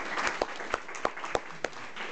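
A small audience at a noon luncheon talk gives a short, light round of applause, with a few distinct claps standing out over fairly quiet room tone.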